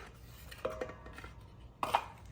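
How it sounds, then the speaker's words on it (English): Meatloaf ingredients with egg, onions and garlic are mixed in a bowl, with soft scraping and a few sharp utensil clinks against the dish, fairly quiet and close. "And I'm going to just mix this all together here"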